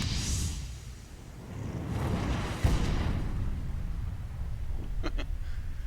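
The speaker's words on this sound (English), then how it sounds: "That is the sound of a fireball." A roaring fireball effect swells with a broad rushing whoosh and low rumble, followed by faint crackling at the end.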